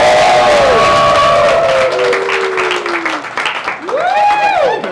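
A crowd at a 4th of July cake walk event roars and applauds loudly and close, with whistle-like tones and cheers rising over the clapping for several seconds.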